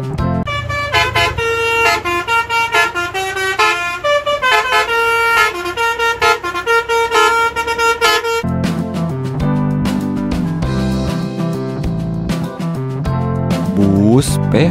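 Loud, nearby musical horns on Indonesian telolet buses blare quick melodic sequences of toots, one tune after another with brief gaps, dominating throughout.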